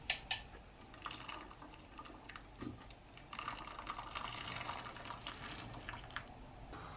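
Boiled chickpeas are tipped from one cooking pot into another, a faint clattering, splashing pour with scattered clicks of chickpeas landing and liquid trickling, quiet and close.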